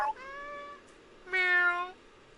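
Two clear, close meows from a cat in the game Stray, a short cry followed after a pause by a louder, longer one, with no talking.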